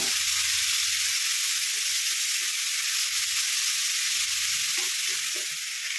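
Spice paste frying and being stirred in hot oil for spicy prawns, a loud continuous hiss of sizzling close up with occasional soft knocks of the spoon, no voices.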